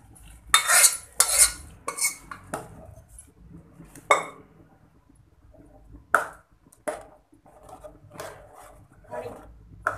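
A metal spoon stirs dal tadka in a pot, cooked dal mixed into sautéed masala, giving intermittent scraping clinks and knocks against the pot in uneven bursts, with soft talk in between.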